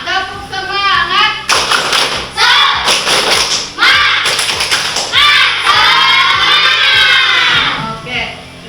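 A classroom of Indonesian schoolchildren performs a rhythmic tepuk semangat cheer on a rainy day, bursts of patterned clapping and thumps mixed with children's chanting voices, loud and close, in several rapid sequences.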